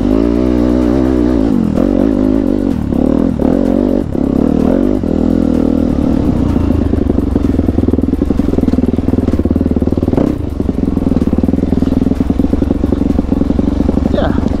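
A trail motorcycle rides off-road, its engine close and loud, revving up and down with clattering as it climbs and bumps over rough ground, with speech at points over the engine.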